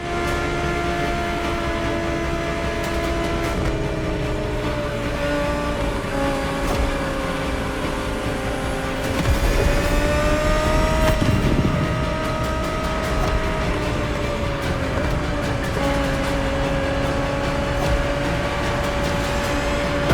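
The 2020 Audi R8 LMS GT2 race car in The Crew Motorfest holds a loud, steady engine drone that dips briefly with a rush of noise midway before climbing again, with no voices.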